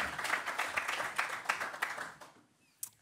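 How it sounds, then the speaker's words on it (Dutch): Applause at an Amsterdam architecture prize event honoring clients of the nominated projects, a moderate audience clapping with distinct individual claps that thins out and stops after about two and a half seconds, followed by a lone late clap. "Nog een hartelijk applaus voor de opdrachtgevers van de drie genomineerde projecten."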